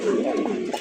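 A pair of king pigeons, a male and a female, gives one brief, close, low coo.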